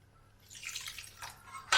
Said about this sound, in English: Now I can add my water and oil mixture.